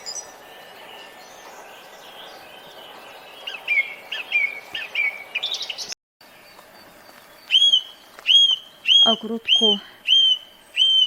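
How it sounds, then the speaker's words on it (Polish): Birds in a shady naturalistic garden sing clearly: a warbling phrase, then after a short gap a run of repeated, loud, clear whistled notes in an even rhythm over quiet background. "ptaki tak pięknie śpiewają, że ja nawet nie chcę im zagłuszać tego śpiewu w ogródku cienistym, naturalistycznym"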